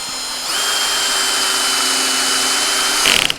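A DeWalt Atomic 20V MAX brushless cordless drill whines steadily at high speed for a few seconds, driving a screw into hardwood without a pilot hole, then bogs down briefly as the screw seats, close up with no talking.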